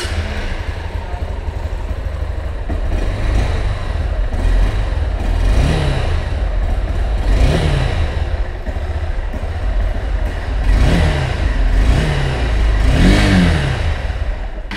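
A 2024 Honda Hornet 2.0 motorcycle engine runs steadily and close by, its exhaust note rising in several repeated revs over a continuous low rumble, with no talking.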